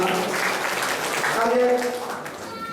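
A round of applause from the audience at a Rotary members' installation and felicitation ceremony in Hunsur's Rotary Bhavan, steady clapping running throughout under a voice speaking.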